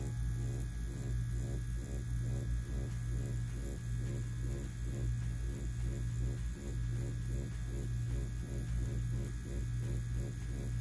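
An XNET Elite wireless tattoo machine running steadily for dot work, a close electric buzz and hum with a rapid pulsing rhythm throughout.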